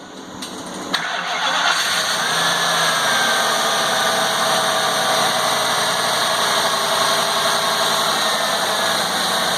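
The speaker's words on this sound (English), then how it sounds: "So we're going to give it a start real quick, see what it sounds like" A 2003 Ford F550 with a V10 engine cranks and fires up on its first start after engine repair, then settles into a steady, loud idle close by for the rest of the clip.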